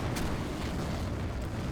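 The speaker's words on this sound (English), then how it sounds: "There's been lots of explosions" Battlefield explosions rumble through a World War II combat game running the RobZ Realism Mod, a dense continuous low roar of distant blasts with one sharper burst near the start, no voices.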